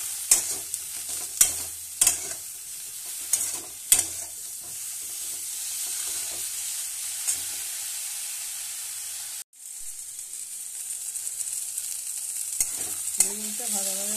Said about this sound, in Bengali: বেগুনটা ভাজা ভাজা হয়ে গেছে